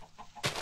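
A Minecraft chicken gives a couple of short, soft clucks, followed at once by a louder, noisier burst. The sounds are brief and fairly close, with no talking.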